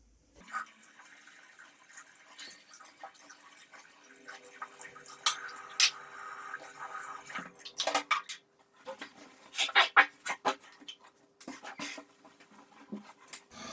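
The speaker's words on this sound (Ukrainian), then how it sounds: "Так що мию помазок" A shaving brush is rinsed under running water at a sink after a shave, with splashing, dripping and a few clinks of items set down, moderately close and with no talking.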